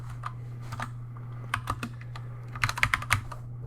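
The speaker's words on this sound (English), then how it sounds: "And I'm going to type in next 7 days." Computer keyboard typing in short bursts of key clicks, sparse at first and then a quicker cluster near the end, close and moderately loud over a steady low electrical hum.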